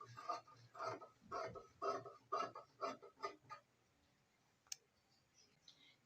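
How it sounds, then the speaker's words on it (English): Scissors cutting fabric for an off-shoulder dress: a run of about eight fairly loud, evenly spaced snipping clicks, then quiet with one sharp tick and faint rustling near the end. "I will now cut off so that I can work with my fabric perfectly."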